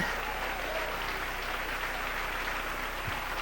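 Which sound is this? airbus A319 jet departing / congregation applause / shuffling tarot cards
congregation applause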